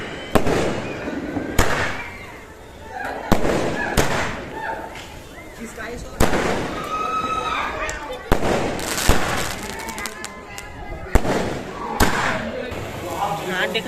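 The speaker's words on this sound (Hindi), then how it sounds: "फिर से दूसरा वाला लगाए गए हैं संगवारी को, एक ठोक फोड़ चुके हैं और ये दूसरा वाला" Firecrackers are set off at a Chhattisgarh housewarming, with several sharp, loud bursts and bangs spread through the clip amid crackling and people talking nearby.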